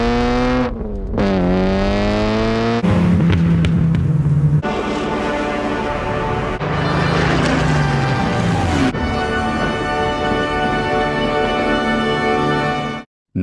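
A Ferrari 288 GTO engine roars loudly and close, climbing through rising revs with gear changes, then holds a high, steady howl before cutting off abruptly.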